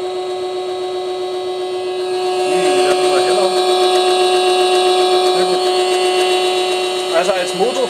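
A homemade 12-coil Bedini motor built from a turntable runs on 15 volts, giving a steady electrical hum with whirring high tones that holds throughout, while someone talks over it.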